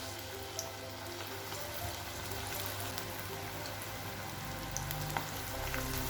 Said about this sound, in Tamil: இதில் எண்ணெயில் இந்த பக்கோடாவை போடலாம்.